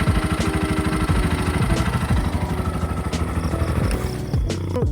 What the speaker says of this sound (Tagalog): Susunod na hindi ko nagustuhan dito is sa kanyang engine noise.